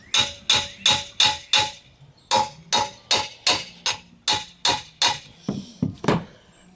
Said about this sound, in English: I'll try it with a small hammer first.